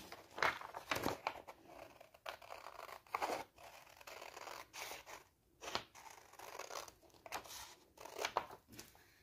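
Scissors snipping through a paper sewing pattern along its outline, a quiet run of short crisp cuts and paper rustles at close range, alone with no talk.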